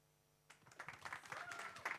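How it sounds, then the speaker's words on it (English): Audience applause at a hackathon in Oslo, a room of people clapping together, starting abruptly after a quiet moment and continuing steadily for about a second and a half. "Big round of applause."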